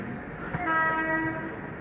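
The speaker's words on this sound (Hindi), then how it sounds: "सामने से कोई ट्रेन जा रही है।" From aboard a moving Humsafar Express near Jaunpur, a passing train rumbles past as a horn sounds with a sustained tone, loud and close over the steady rolling noise, with no voices.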